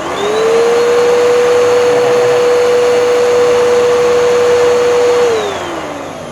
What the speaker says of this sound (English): is a fully functional vacuum